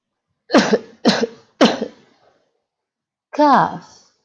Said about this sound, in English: Some of these symptoms are cough